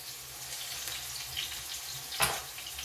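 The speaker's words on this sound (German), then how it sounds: "Das wird jetzt auf alle Seiten anbraten, das Fleisch." Pork for a Franconian crusted pork roast sears in a hot new roasting pan, giving a steady, fairly faint sizzle with a brief clatter near the end and no talking.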